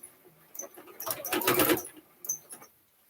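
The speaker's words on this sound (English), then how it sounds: "sew these 3 layers together the same way I did on the other side. With about a 1/4 inch seam allowance." A sewing machine stitches three layers of fabric scraps together for a pouch, its motor whirring in a steady burst of a second or so that rises and then stops, with a short run of needle clatter afterward.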